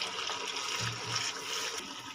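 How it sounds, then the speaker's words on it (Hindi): About a glass of water is poured into cooking masala in a pan, a short, steady splashing pour with a faint sizzle-like hiss, and no one speaks. "तकरीबन 1 गिलास जो पानी का है वो शामिल करूँगी।"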